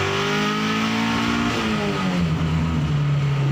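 Skunk2-built Honda B20 VTEC high-compression street engine pulling at part throttle, a loud close-up drone whose pitch climbs steadily as the car accelerates.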